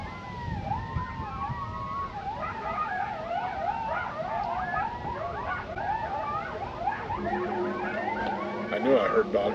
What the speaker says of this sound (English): there is a pack of coyotes that live that live on here